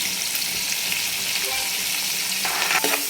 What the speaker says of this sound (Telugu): బాగా చక్కగా కలుపుకొని ఉల్లిగడ్డ బాగా బ్రౌన్ కలర్లో వేయాలి.